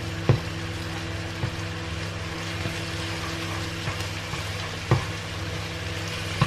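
An egg fries in a pan for fried rice with a steady low sizzle, close and continuous, broken by a few light taps of a utensil against the pan.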